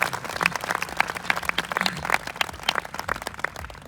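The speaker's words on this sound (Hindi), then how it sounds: "ताली बजाकर धन्यवाद करेंगे।" A church congregation claps in thanks during a service, with a dense patter of many hands and uneven swells of applause lasting several seconds.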